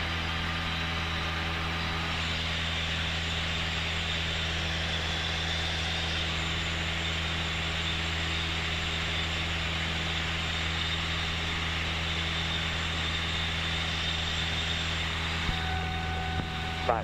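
A Piper PA-28 light propeller airplane cruises at 5,000 feet, heard from inside the cabin as a loud, unbroken engine and propeller drone that holds steady throughout.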